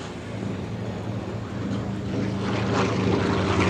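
Propeller warplanes, a P-51D Mustang and a Corsair, circle low at an airshow, giving a broad, steady distant drone that slowly swells louder over a few seconds, with no voices.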